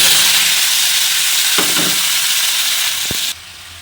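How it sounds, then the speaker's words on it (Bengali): Chopped vegetables tip into hot oil with black cumin in a wok, making a strong, continuous frying hiss with a couple of clunks from the pan before the sizzle drops in level near the end. "কালো জিরেটা তেলের মধ্যে দিয়ে এই দেখো কাটা সবজিগুলো সব দিয়ে"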